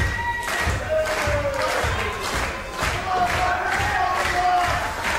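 Large wrestling arena crowd in Wolverhampton roaring and cheering continuously, a dense loud wall of voices with rising swells and scattered shouts, a commentator's voice faintly mixed in.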